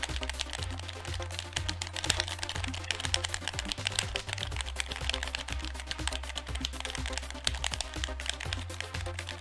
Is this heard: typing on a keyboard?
yes